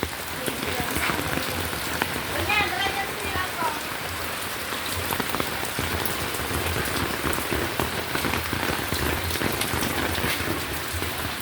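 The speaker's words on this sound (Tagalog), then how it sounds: "Ayan o, maulan." Steady rain pours down onto surfaces, a loud, dense hiss with scattered drop impacts that runs unbroken throughout, with a faint voice briefly in the background.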